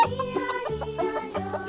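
Several chickens cluck in a busy, overlapping chatter, close by and fairly loud, with no one talking over them.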